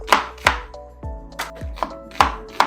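A knife chops through onions on a cutting board in crisp, evenly spaced strikes, about eight close, sharp thuds over a couple of seconds with no talking.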